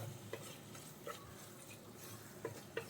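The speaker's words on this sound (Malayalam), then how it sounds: "മീറ്റ് മസാല കൂടി ചേർത്ത ശേഷം നമുക്ക് ഒന്നുകൂടി ഒന്ന് മിക്സ് ചെയ്തെടുക്കാം" A spoon stirs beef curry with meat masala in a pan, giving faint, sparse scrapes and soft clicks against a low background hiss.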